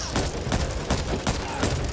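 Rapid gunfire in the co-op zombie shooter Back 4 Blood, loud and rhythmic, with a steady stream of sharp shots over a dense layer of game noise.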